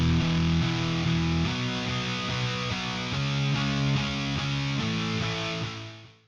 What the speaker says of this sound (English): Guitar 2 in standard sounds like this.